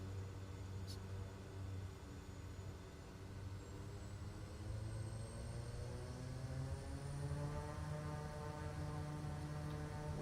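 Propeller aircraft engine held at high idle with props full forward and flaps set in Microsoft Flight Simulator 2020, a steady droning hum with rising harmonic tones, continuous and even throughout.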